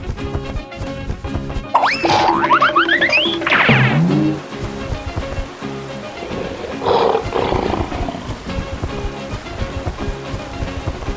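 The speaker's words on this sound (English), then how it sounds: "Lion." A lion's roar, game sound effect, rises as a loud, long bellowing growl with a cartoonish springy boing and crashing effects layered in, followed by a second rumbling roar, no speech.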